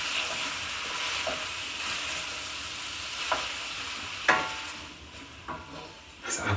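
Bite-sized vegetable chunks stirred in a pot, making a soft, continuous sizzle with a few sharp utensil knocks against the side.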